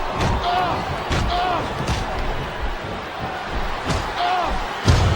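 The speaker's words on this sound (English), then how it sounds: "What a tackle, knocking the opponent down." Heavy body-slam thuds and smacks from a wrestling video game, several dull impacts spread across the stretch over a busy background of arena crowd noise, the last hit landing loudest near the end.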